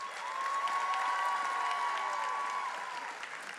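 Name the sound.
crowd applause for a congresswoman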